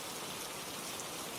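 Torrential rain falls as a dense, even hiss of countless drops, steady and fairly quiet with no distinct patter or voices.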